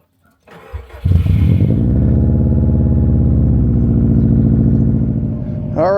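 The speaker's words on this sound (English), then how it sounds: "So let's go ahead and get her started." A Subaru car engine cranks briefly and catches, then settles into a loud, steady idle close by that runs for several seconds with no talking.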